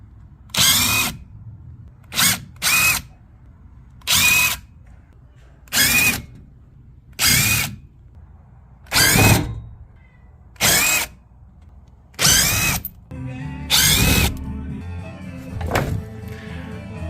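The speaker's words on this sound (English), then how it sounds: "remove this dust panel, and you're going to need a 10mm socket" A power drill with a 10mm socket spins out bolts from the dust panel under a Ford Fusion 2.0 EcoBoost Titanium. About nine loud whirring bursts come in a steady run close by, and each one stops abruptly, with brief pauses between them.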